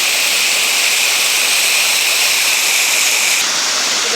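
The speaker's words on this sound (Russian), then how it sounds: "о, водопад, красота какая." The Uchar waterfall in the Altai Mountains roars as a loud, continuous broadband rush of falling water, steady throughout with no voices.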